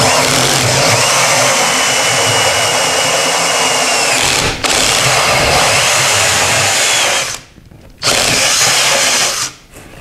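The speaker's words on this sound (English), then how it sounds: "And we're going to drill approximately halfway through." A power drill runs continuously, boring halfway through a drywall patch with a loud, close, steady whine that cuts out briefly twice near the end.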